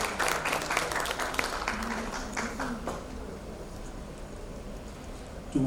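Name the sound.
audience applause at education summit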